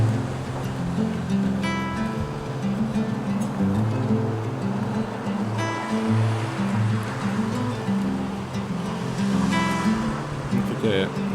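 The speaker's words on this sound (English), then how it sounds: "But here's the river." A river in Bryson City, North Carolina rushes in a steady broadband wash of flowing water, heard outdoors beneath someone talking casually.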